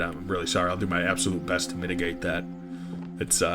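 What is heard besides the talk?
No everyday noises stand out.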